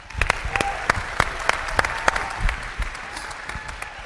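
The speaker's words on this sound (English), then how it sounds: "So let's give Jim Burke a round of applause" An audience applauds a speaker being welcomed to the stage, with crisp, scattered claps that stay fairly sparse and uneven and that come through loudly and close.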